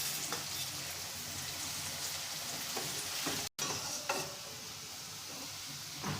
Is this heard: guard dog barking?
no